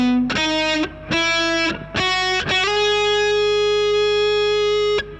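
Heavily distorted electric guitar playing a few sustained notes joined smoothly by legato hammer-ons, the last one ringing out long before cutting off.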